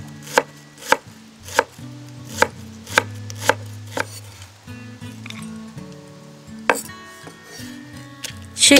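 A knife chops shallots finely on a board in a run of sharp, crisp strikes, evenly spaced at first, then slowing with quieter gaps and a final cluster of cuts near the end.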